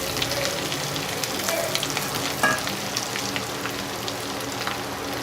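Raw banana and lentil usili fries in a pan with a steady, dense sizzle and occasional stirring scrapes, continuous and close with no talking.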